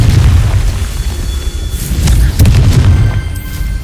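A Confringo fire spell bursts in Hogwarts Legacy with a loud, deep boom, its rumbling blast and crackling debris filling the whole moment up close.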